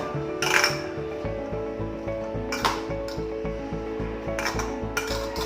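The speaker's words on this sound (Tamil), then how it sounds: "இது நல்லா இப்போ கிளறிடுங்க" Peanut chaat mixture stirred in a bowl, a steady run of soft spoon scrapes and light clinks with a few brighter clatters against the bowl, close and fairly quiet.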